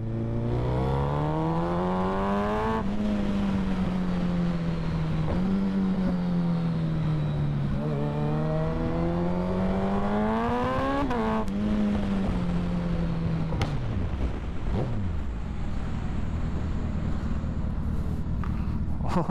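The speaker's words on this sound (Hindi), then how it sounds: "इसके जो बैक फायरिंग है ना, बहुत जबरदस्त" A Suzuki Hayabusa motorcycle's exhaust roars continuously nearby, its pitch climbing and dropping through repeated revs, with a couple of brief sharp pops that may be backfires.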